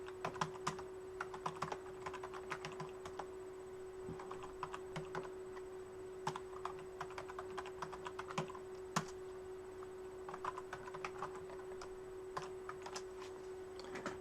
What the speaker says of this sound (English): I'll start typing them in.